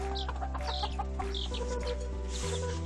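A mother hen clucks and chicks peep in short bursts while feeding on chicken feed and rice, over a steady, loud low mechanical hum, with no voices.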